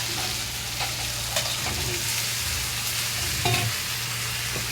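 Fried ridge gourd sizzling in spiced oil in a pan, a steady loud frying hiss with occasional stirring scrapes and small bumps, close up and without talk.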